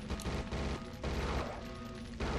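Rapid-fire gunshots in the Judge Dredd video game, a dense, continuous burst of fast shots that keeps going with only brief dips, loud and close, with no talking over it.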